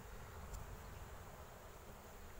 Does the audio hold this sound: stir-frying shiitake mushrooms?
no